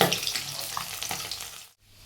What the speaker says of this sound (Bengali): ওইদিকে মাছ ভাজা হোক এত ফাটছে রান্নাঘরে থাকাই যাচ্ছে না